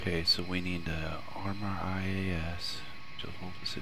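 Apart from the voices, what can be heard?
No everyday noise stands out behind the speech.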